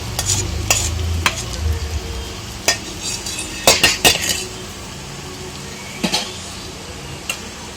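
A spoon stirs tempering into a buttermilk curry (mor kuzhambu) in a pot, giving a soft sizzle with scattered clinks and scrapes of metal against the vessel.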